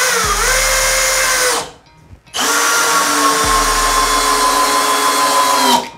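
A Bosch GSB 185-LI cordless drill drives a 6x70 screw in two loud, close whining runs, the motor pitch sagging under load, split by a short pause.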